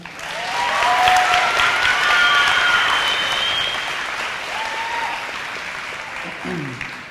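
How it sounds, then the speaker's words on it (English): A graduation ceremony crowd breaks into loud, sustained applause that swells and then gradually thins, with cheers and whistles rising above the clapping throughout. "Can everybody clap it up for her one more time?"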